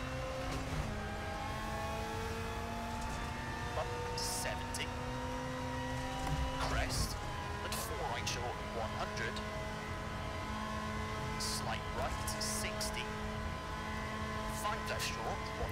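Rally car engine in EA WRC on a rain-soaked stage, droning steadily with rising and falling revs and gear shifts, with a co-driver's pace-note voice over it throughout.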